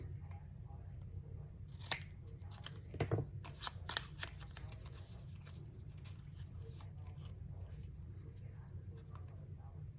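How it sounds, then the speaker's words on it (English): Scissors snip the corners off paper tags for a junk journal, a few quiet crisp cuts close by over faint background hum, with soft rustling of the paper between snips. "So I'm gonna cut the corners to make the tags."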